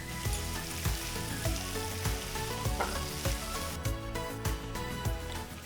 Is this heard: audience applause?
no